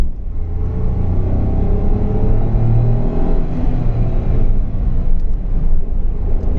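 A Renault Triber car accelerates on the road, its engine a low, steady rumble that swells slightly as speed builds, mixed with broad road and tyre noise, close and continuous without any voices.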